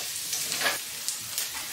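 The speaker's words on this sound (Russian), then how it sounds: "Добавляю сюда репчатый лук и обжариваю до мягкости, золотистости." Chopped onion sizzles softly in melted butter in a pan, a faint crackling fry with small pops and occasional stirring scrapes, no talking.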